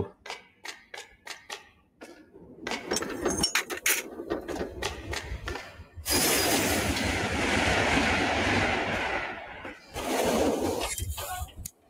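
Subway train in the video game DARQ, a loud rumbling ride with clattering rail noise and rising wheel roar, preceded by sharp clicks; it swells strongly midway, dips briefly, then carries on to the end.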